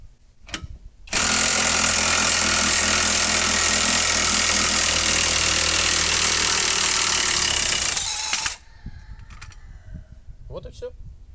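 An ENZT 600 Nm cordless impact wrench hammers loose a car wheel nut in one sustained, loud, rattling burst lasting about seven seconds, then stops abruptly, with faint handling noises before and after.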